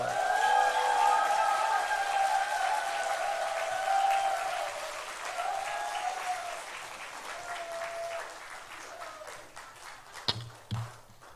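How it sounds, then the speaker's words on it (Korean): A church congregation claps steadily in dense applause with shouted cheers rising over it early on, gradually thinning out, ending with a few loud knocks. "함성과 함께 박수를 치면서 기절할 정도로 환영합니다"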